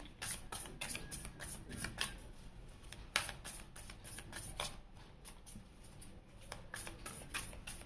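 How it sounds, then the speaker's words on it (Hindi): Tarot cards are riffled and shuffled repeatedly in quick, crisp bursts, close and fairly quiet, with a steady patter of card edges throughout and no one speaking. "मैं अभी कार्ड नहीं लूँगी बिकॉज मैंने कार्ड शफल नहीं किए हैं"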